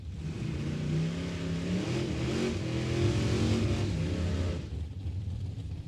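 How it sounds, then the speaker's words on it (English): Dragster engine at a drag strip, a distant roaring, revving race engine sustained for several seconds before cutting away abruptly to quieter background noise. "Jerry Ludington in the dragster"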